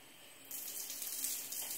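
Water runs and drains through a newly installed faucet and sink, a faint hiss that starts abruptly partway through and then flows steadily, with no speech.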